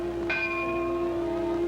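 A bell rings before passengers board a Pan Am Clipper flying boat, one clear struck tone with a long ringing decay over a steady hum of background noise.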